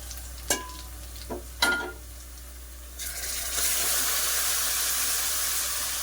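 Mutton tossed into a pan of fried onions and green chillies gives a few sharp utensil clicks, then a loud, steady sizzling hiss that swells and holds to the end.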